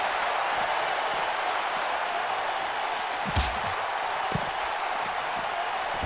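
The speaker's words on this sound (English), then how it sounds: "Clap, clap. That's right. You guys better be clapping at home." Steady applause from a wrestling arena crowd, dense and continuous, with a couple of brief thuds rising out of the clapping.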